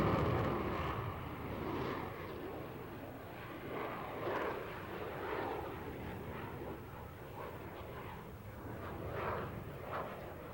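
A Dassault Rafale fighter jet flying an airshow display at the 1989 Paris Airshow, heard as a distant, fluctuating roar of jet engine noise that swells and fades without voices.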